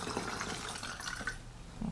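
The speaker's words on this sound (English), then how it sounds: "I'm going to fill this up with some water" Water trickles and gurgles steadily as it is poured into a small squeeze condiment bottle, a soft continuous splashing at close range.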